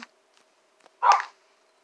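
A dog character in a hide-and-seek video game gives a single short bark, close and clear, after a few faint clicks in an otherwise quiet moment.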